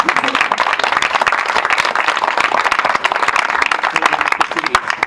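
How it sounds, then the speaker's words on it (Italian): Audience applause at a community gathering in Flumini, a dense steady wash of many hands clapping close and loud throughout, with faint voices mixed in beneath. "un applauso a tutte queste persone"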